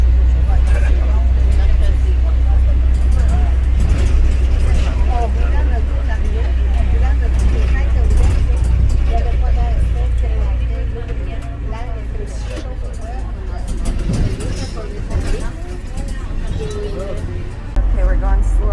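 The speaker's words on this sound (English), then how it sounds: "the traffic here is crazy" Busy Paris street traffic with buses and cars rumbling steadily nearby, a constant low engine drone with passing vehicles while people talk over it.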